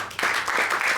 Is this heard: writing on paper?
no